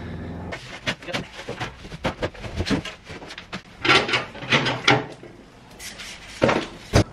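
Metal drawers on a tool chest (a 7-drawer bottom stack with a 9-drawer top stack) slide open and shut in a quick series of clunks and rattling runs, some louder and some softer, with short gaps between them.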